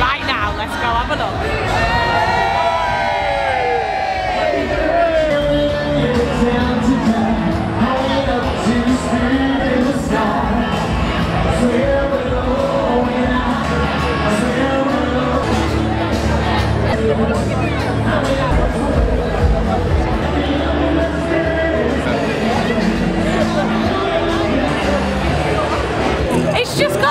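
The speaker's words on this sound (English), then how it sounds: "the crowds here at the start of Girona are already incredible" Large crowd of British and Irish revellers packing the streets of Benidorm's Newtown area on fancy dress day, a dense continuous hubbub of chatter, shouts and occasional whoops, loud and steady throughout.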